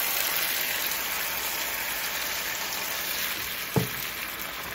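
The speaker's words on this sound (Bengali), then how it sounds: "একটুখানি সর্ষের তেল দিয়ে দিলাম, তারপরে কালো জিরে দিয়ে দিলাম। এবারে দিয়ে দেবো ওই বাটি মাখানো এটা চিংড়ি মাছ কুমড়ো শাক।" Shrimp and pumpkin greens fry in mustard oil with black cumin seeds, making a steady close hiss and sizzle with one brief soft thump near the end.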